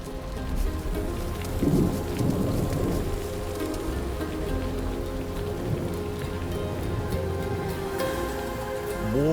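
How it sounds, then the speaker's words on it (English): Heavy rain pours steadily on the arid plains as the rainy season arrives, with low thunder rumbling beneath the constant hiss throughout, loud and dense, no voices. "But a rumble in the sky heralds a new chapter."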